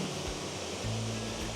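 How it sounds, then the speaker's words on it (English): A small waterfall at Rouken Glen in Glasgow pours in a steady, soft broadband rush with low rumbling, heard alone and fairly faint for a brief moment. "There's a wee waterfall right behind me there."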